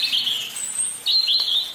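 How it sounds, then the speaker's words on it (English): A small sparrow chirps in a nursery garden, giving two bursts of bright, high twittering calls close by, separated by a short pause. "Here comes a sparrow."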